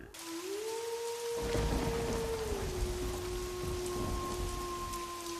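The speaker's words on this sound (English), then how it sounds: "The rain came down in thick, relentless sheets" Steady heavy rain pours down with a dense, even hiss, punctuated by a low rumble of thunder partway through, with a faint sustained tone running underneath the storm in a narrated story.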